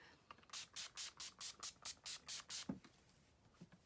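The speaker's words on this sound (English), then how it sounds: "And I just spray it and let it sit for a minute." A pump bottle of makeup setting spray fires about ten quick, evenly spaced misting bursts close up, followed by a couple of soft clicks and rustles.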